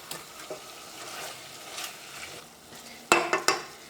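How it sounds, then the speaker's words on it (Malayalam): Half-cooked chicken stew is stirred in a pot with a soft scraping sizzle, then two loud metallic clanks of the spoon against the pot come near the end. "നന്നായിട്ടൊന്ന് മിക്സ് ചെയ്യാം."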